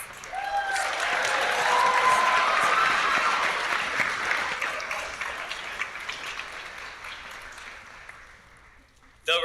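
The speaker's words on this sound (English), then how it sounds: "Let's give all of our crew a big round of applause." An audience claps for a school show's crew at a Mr. WHS 2023 pageant, a full round of applause that swells, holds and slowly fades over several seconds.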